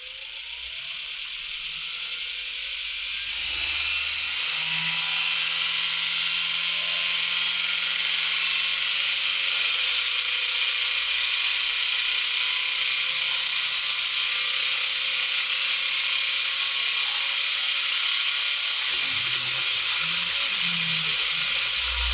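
A gearless magnetic transmission spins up to high speed, a steady whirring mechanical whine that steps up louder after a few seconds and holds near and continuous, alone without talk.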